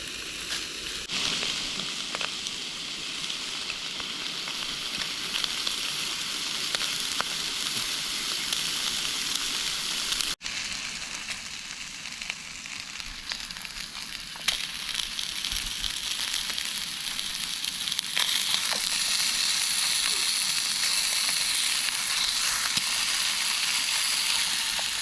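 Meat sizzles and spits in a hot pan on a camping stove at a nature reserve after a storm. The frying is close and continuous, with crackles and pops and no talk over it.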